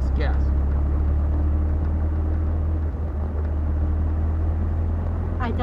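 Manual car accelerating in third gear during a clutch-control lesson, a steady low engine rumble and drone heard from inside the cabin, continuous throughout.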